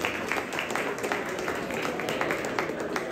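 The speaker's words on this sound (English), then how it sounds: "Please, round of applause to Congresswoman Tenney." Audience applause at a Serbian American gathering during the Republican National Convention, a continuous crackle of many hands clapping at steady loudness, with some crowd noise mixed in.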